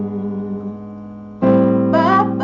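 Piano playing part of "If I Ain't Got You": sustained held chords that swell louder halfway through, with a brighter upper melody entering near the end, steady and close with no voices.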